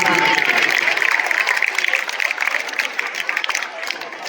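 Dense applause from an audience at a school annual function, steady and loud throughout, easing slightly toward the end.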